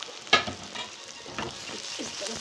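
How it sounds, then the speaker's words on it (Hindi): Tomatoes and green chillies, red and green tomatoes together, frying for a baingan bharta gravy, with a sharp clatter of stirring near the start followed by a steady soft sizzle and occasional light scrapes. "इस तरह से इनको फ्राई करूँगी मिक्स"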